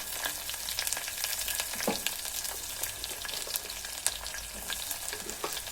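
Chopped onion sizzling and frying steadily in hot oil in a pan for a Kannada methi dal, with occasional stirring scrapes over a continuous crackle.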